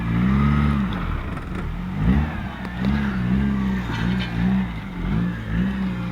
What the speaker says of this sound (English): It's a big trailer and this little truck's moving it.